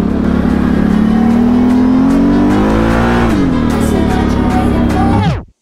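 ATV quad bike engine revving hard and loud close by, the pitch climbing steadily, dipping briefly, then holding high as the tires drift, before the sound cuts off abruptly at the end.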